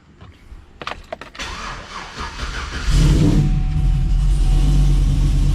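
A car engine starts up nearby: a few clicks and a grinding crank build up, then the engine catches and settles into a loud, steady running rumble.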